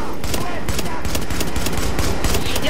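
Rapid automatic gunfire from a hacked turret in The Division video game, dense continuous bursts of shots with voices talking over the shooting.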